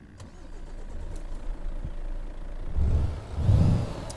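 A Renault Magnum truck engine in Euro Truck Simulator 2 cranks and catches, rising from a low rumble into two louder bursts as it settles toward idle, heard alone without talk.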